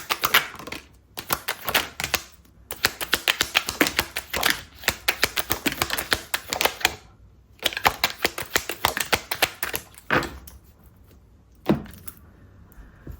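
Tarot deck being shuffled by hand at close range, a long run of dense, rapid card riffles and slaps in repeated bursts with short pauses between, no talking.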